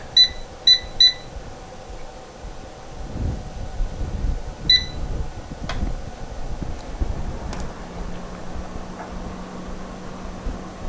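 A bucket-type air fryer set to 350 degrees gives a few short electronic beeps in quick succession as its power is pressed, then a quieter beep, followed by the low hum of the running fan.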